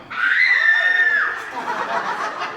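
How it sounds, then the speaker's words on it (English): A woman screams long and loud in a theatrical melodrama scene, a sustained high shrill cry that rises then breaks into ragged, fading vocalizing, close and alone. "She screams long and loud."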